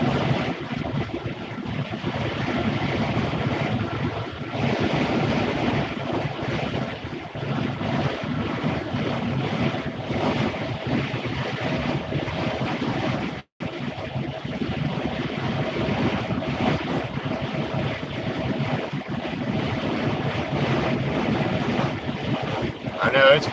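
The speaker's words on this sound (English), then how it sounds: "I know it's windy as shit outside." Strong wind buffets a car while driving in Iowa, a steady loud rushing roar that runs nearly throughout, with one very brief dropout midway.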